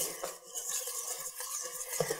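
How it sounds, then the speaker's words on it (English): Butter and milk being whisked into a flour and yeast mixture for yeasted waffle batter, with soft, steady scraping and clinking of a whisk in a bowl, fairly quiet and continuous without talk. "I'm going to keep whisking this butter and milk into the flour and yeast mixture"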